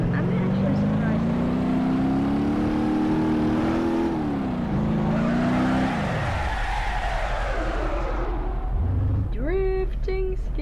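A car drifting in BeamNG.drive, its engine droning and rising in pitch with steady tire skidding, then dropping off; a voice talks briefly near the end.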